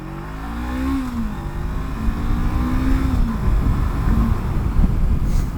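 A 2016 Honda CB500F motorcycle accelerating hard through the gears on an open road, engine note climbing in rising sweeps with a shift in between, close and loud under heavy wind buffeting.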